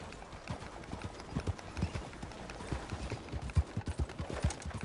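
A horse galloping in Red Dead Online, its rhythmic hoofbeats clopping quickly and evenly at moderate loudness, growing slightly stronger toward the end.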